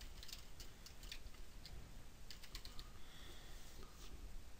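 Faint, light keyboard typing gives scattered soft clicks in small clusters over a quiet background hiss, close to the microphone with no voices.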